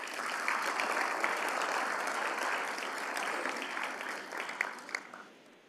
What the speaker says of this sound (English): Give both of them again a round of applause.